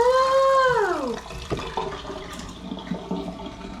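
Water turned back on in a renovated bathroom: a rising whine of pipes gives way to a steady rushing, splashing flow of running water, close and fairly loud, with no talk over it.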